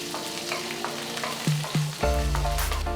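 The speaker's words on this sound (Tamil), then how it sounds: "இது எல்லாத்தையும் நல்லா வதக்கிக்கோங்க." Garlic, ginger, bay leaf, cinnamon, cloves and cardamom sauté in hot oil for butter paneer masala, giving a close steady sizzle broken by a few stirring clatters before a louder, fuller burst of frying.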